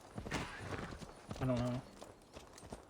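Horse hooves walk in Assassin's Creed Valhalla, a soft steady clip-clop under a voice, with a short rider's or horse sound partway through.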